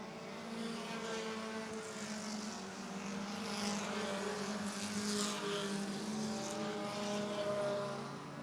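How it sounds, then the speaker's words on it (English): Stock cars, including a Dodge Neon, drag race down the back straightaway at Barrie Speedway, Ontario. Their engines make a steady, loud, blended roar that holds for the whole stretch with no talk over it. "Butler upstairs as they drag race down the back straightaway"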